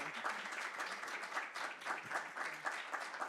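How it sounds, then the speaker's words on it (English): An academic panel audience gives a round of applause for the panelists, moderately quiet and fairly steady with pulsing clusters of claps, no speech over it. "let's give our panelists a round of applause"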